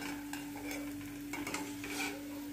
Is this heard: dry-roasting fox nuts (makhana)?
yes